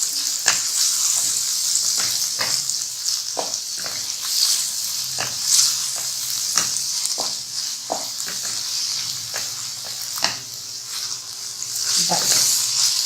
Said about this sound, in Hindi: थोड़ा सा तेज फ्लेम करके हमने इसको थोड़ा सा भूनना है।